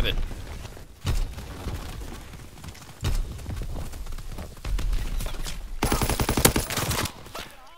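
Gunfire rattles in Call of Duty: WWII, repeated bursts and shots in several loud stretches, with a person talking over the game.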